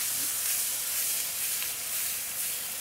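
Corn tipped into a pan of bacon on a BlueStar range, giving a steady, fairly soft hiss of sizzling fat that stays even throughout.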